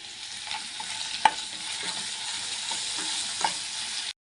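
Masala with chili powder fries in a pan for a paneer gravy, a steady soft sizzle with occasional spoon clicks and scrapes against the pan, close and fairly quiet, ending abruptly, with no talk.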